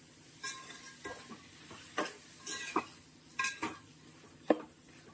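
Rice for ghee rice stir-fried in oil: a soft sizzle underneath irregular scrapes and taps of a spoon against the pan, about half a dozen strokes, fairly quiet and close, with no talking.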